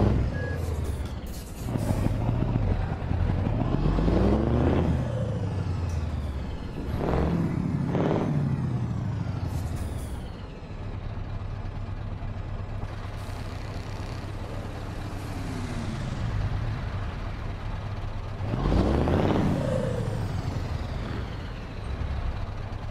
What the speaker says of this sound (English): Can you hear my truck, Anna?